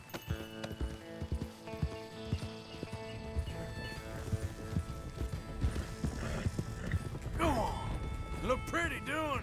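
Horse in the video game Red Dead Redemption 2, with irregular clip-clop hoofbeats and thuds at first, then several loud, close neighs and whinnies toward the end over a busy game soundscape.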